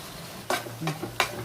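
Tomatoes cook in a pan with salt, chili powder and turmeric, a soft steady sizzle broken by three quick scraping stirs of a spoon.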